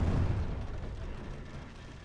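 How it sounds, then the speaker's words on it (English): Catapult fire in Total War: Call of Warhammer, a Dwarfs campaign battle: one deep boom or thud at the start that decays into a low rumbling tail over two seconds, heavy and fairly loud. "catapult fire"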